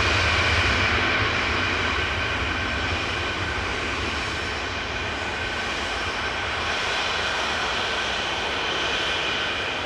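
A Jet2 airliner on a positioning flight takes off from Manchester Airport, its engines a steady, loud, broad roar that holds throughout with a faint rumbling swell, heard at a distance with no voices.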